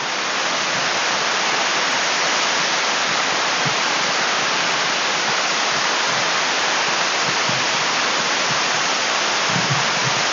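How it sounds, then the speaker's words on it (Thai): Tat Yai waterfall in Nam Nao, Phetchabun, its muddy water pouring in a loud, constant roar of rushing water that stays unbroken and close throughout, with no voices. "น้ำตกตากใหญ่"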